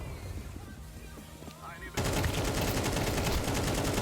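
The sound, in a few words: AK rifle gunfire in the video game Counter-Strike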